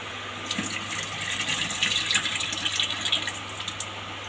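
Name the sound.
washing corn kernels in water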